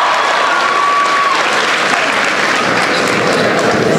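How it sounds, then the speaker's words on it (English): Dense, steady applause from a large crowd at a commencement ceremony, sustained and loud throughout with a faint whistle-like tone early on. "Please give him a big round of applause."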